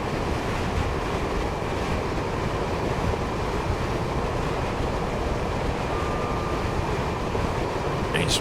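A train in the Train Sim World 2 video game runs at full power near 86 mph, producing a steady loud rushing rumble with wind-like noise throughout and no voices.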